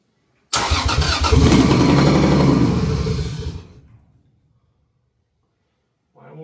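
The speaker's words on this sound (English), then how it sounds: "Trying to start the budget 2J Rat Rod Supra now." A budget 2JZ-swapped rat rod Toyota Supra cranks and fires, running loudly for about three seconds before stumbling and dying out, followed by silence and a faint sound at the end.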